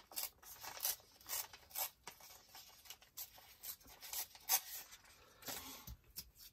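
A sheet of art-journal paper being torn down the middle, heard as close, dry ripping and rasping bursts in several uneven pulses, quiet overall with no voices.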